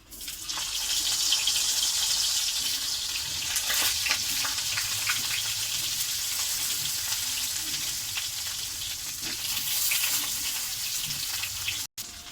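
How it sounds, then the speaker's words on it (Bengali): Continuous crackling sizzle of pointed gourd frying in hot oil, close and steady, with occasional sharper pops. "এই দেখো তোমার তেলটা গরম হয়ে গেছে। আমি এক এক করে ভাজবো।"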